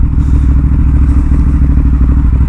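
A Ducati Hypermotard 939 SP engine runs loud and close in a steady, throbbing drone, with rough mechanical clatter and wind rush on top.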